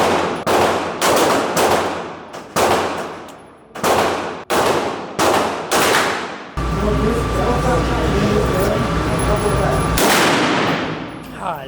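Gunfire at an indoor shooting range, starting as a rapid series of loud, sharp, close shots spaced about half a second apart. A sustained roaring burst follows, then one more loud shot. Voices are audible around the shooting.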